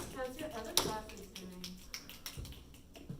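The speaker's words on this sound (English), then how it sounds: "can clap or snap, whatever you want to do" A class gives a scattered run of finger snaps, sharp and close, with light taps in between, while people talk over them.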